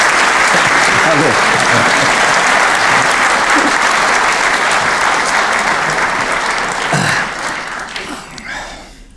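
A theatre audience applauds loudly and steadily to welcome the guest Stefan Aust, a dense wash of clapping that holds for about seven seconds before thinning and fading out.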